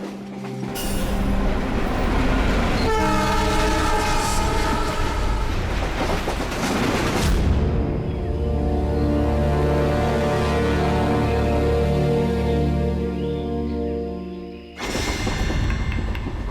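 Train running, heard from inside a carriage on an Indian train: a loud, steady rumble with rhythmic clickety-clack from the wheels. Tonal hum and layered mechanical noise continue throughout, with a brief dip and shift near the end.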